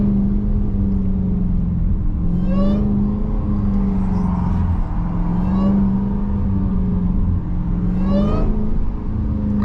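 A Dodge Hellcat Jailbreak engine pulls hard at high speed in rush-hour traffic, its deep steady drone rising in repeated rev sweeps, loud and close throughout with no talking.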